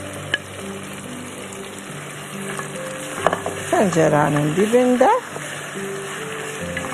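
Onions fry in a pot in a Turkmeneli-style home kitchen, giving a steady close sizzle with some stirring. A voice talks over it.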